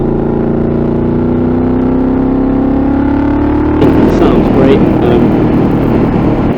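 A Honda VFR750 with its 750cc V4 engine hums steadily while riding, its pitch rising slightly, then wind rush swells in over the engine; a voice talks over the engine sound.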